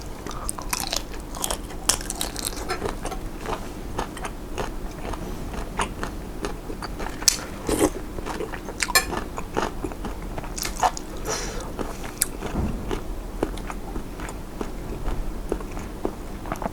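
Close, crunchy chewing and biting while eating thin rice noodles with boiled shrimp, fermented fish sauce dressing and fresh vegetables, steady moist mouth sounds and crisp bites repeating throughout with no talk.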